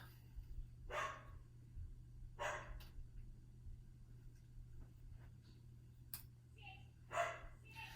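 A dog barks a few times at moderate distance, short separate yaps over a low steady hum.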